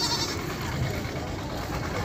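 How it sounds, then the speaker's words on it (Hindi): Tota Pari goats bleat at a crowded goat market in Dera Ghazi Khan, a dense, continuous mix of animal calls and background noise. "ये बकरा है और बाकी ये सारी बकरियां हैं"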